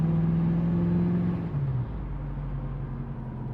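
A 1966 Mustang drives on the freeway, its engine a steady, close drone with a strong low hum that dips in pitch partway through, then settles into a lower rumble.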